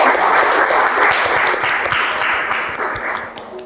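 Audience applause at an Indonesian youth talk event, steady dense clapping filling the room at close range, tapering slightly toward the end.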